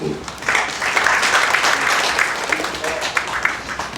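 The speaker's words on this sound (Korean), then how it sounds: "박수로 받으시기 바랍니다." An audience at an urban development project briefing in Mungyeong, held in a wedding hall, applauds steadily as a presenter is introduced. The clapping is dense, close and sustained, with a voice briefly heard at the start.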